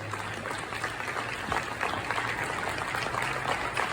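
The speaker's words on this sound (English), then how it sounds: "give another round of applause for Dr. Joel Freeman." Conference audience applauding a guest speaker, a dense, steady patter of many hands clapping at moderate volume for several seconds without talk.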